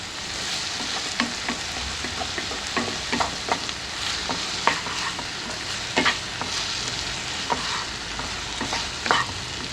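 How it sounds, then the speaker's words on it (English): Soya chunk masala is stirred and sautéed in a hot pan with garlic, ginger and onions, giving a steady sizzle broken by repeated scraping and clacking strokes of the spoon throughout, with no talking. "Then I'm going to stir in and mixing it well till the raw flavor goes."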